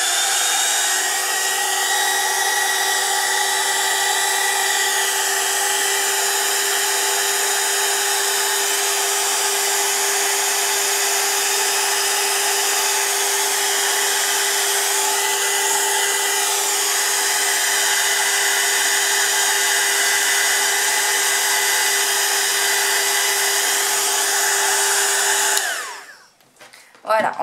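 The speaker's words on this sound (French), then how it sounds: "Je vais mettre en route le pistolet chauffant" A heat gun for heat embossing runs continuously at close range, a loud steady roaring blower whine with a constant tone that holds for about 25 seconds before cutting off abruptly.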